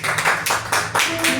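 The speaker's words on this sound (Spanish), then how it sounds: "Denle un fuerte aplauso al Señor." A church congregation claps in rhythm, producing about six loud, evenly spaced bursts of hand claps during a worship service.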